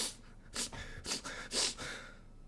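A person sniffles several times in a row, short sharp nasal intakes spaced about half a second apart, close and fairly quiet with no talk over them.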